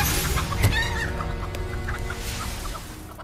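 A chicken in the Hogwarts Legacy video game clucks in a quick run of short, close calls, then gives a few softer, scattered clucks as it trails off, with no talk.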